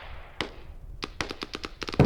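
Gunfire and explosions in a multiplayer shooter match, with one sharp shot followed by a rapid run of close, loud shots fired wildly, ending in a heavier blast.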